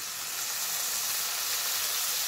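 Spices and sour curd sizzle steadily in hot oil for mustard pabda fish, with ground coriander, chilli, turmeric and salt in the pan; a continuous, close, even frying hiss throughout, no voices.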